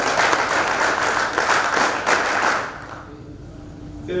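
An audience at a quality circle competition breaks into loud, full applause that holds steady for a few seconds, then quickly fades away into near silence.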